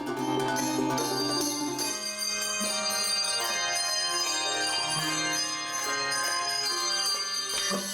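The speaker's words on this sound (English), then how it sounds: "Each bell has a pitch, just like each key on a piano is a certain pitch, a certain note." Handbells ringing together, each tuned to its own pitch: a dense, continuous wash of overlapping bright metallic tones and sustained notes, steady and full throughout.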